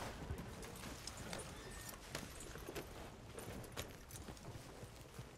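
Hooves of a horse clop along in Red Dead Redemption II, quiet and fairly close, an uneven walking beat with occasional sharper knocks and little else besides.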